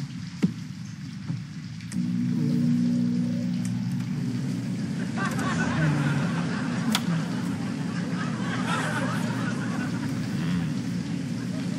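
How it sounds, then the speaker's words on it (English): Steady rain falls outside as a continuous loud hiss, with a few sharp drips, over a low background hum; a brief honking sound rises near the start. "The sound of that rain is going to keep me up all night."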